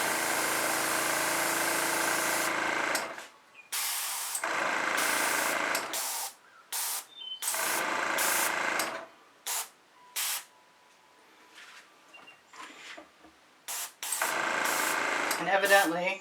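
An airbrush sprays black paint onto a fluid acrylic pour painting, several loud hissing bursts a few seconds long separated by short pauses, close up, with no voices.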